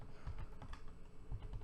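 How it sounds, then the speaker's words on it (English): Rapid, uneven clacking of a computer keyboard being typed on, close and fairly quiet, with no voices. "Keyboard is getting a little crazy."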